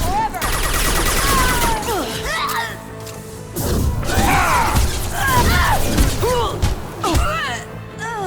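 Video game Mass Effect 2 combat: a high-impact gunshot rings out amid a chaotic fusillade of crashes, shattering and heavy thuds, with shouting voices woven through the din.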